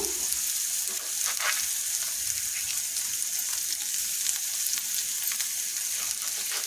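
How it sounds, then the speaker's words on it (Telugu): Curry leaves and green chillies frying in hot oil for a chicken fry, giving a steady, dense sizzle close up with faint crackles and occasional stirring throughout. "అలాగే ఇప్పుడు దీంట్లో కొంచెం కరివేపాకు వేసుకుంటానండి అలాగే రెండు మిర్చి కూడా వేసుకుంటాను"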